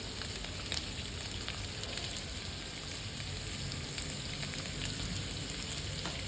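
Potato bhaji with sugar, salt and crushed peanuts sizzles steadily in a pan as it is stirred, giving a constant, fairly quiet crackle with faint scraping.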